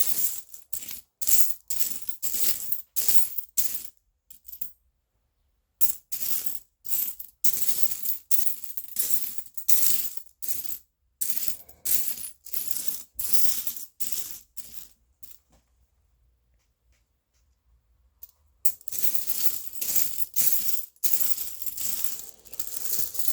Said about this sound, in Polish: szukamy dalej w pośród tych monet